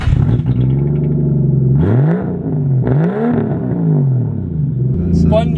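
A 450bhp Nissan R33 Skyline engine revs hard: a loud, close idle rises in repeated sweeping blips that climb and fall, with a voice heard briefly over it.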